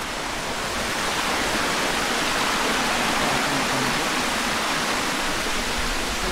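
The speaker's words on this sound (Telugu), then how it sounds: "కొండ నుంచి వాటర్ అయితే పడతా ఉంది." Water falling from a hillside at Mahendragiri in the rainy season, a loud, unbroken roar of cascading water close by, steady throughout with no voices.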